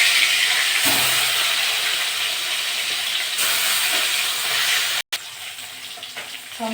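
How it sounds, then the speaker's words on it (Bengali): Tilapia pieces fry in hot mustard oil with a steady, loud hiss and crackle throughout, broken by a brief cut near the end. "বাকি মাছগুলো আমি একইভাবে ভেজে নেব"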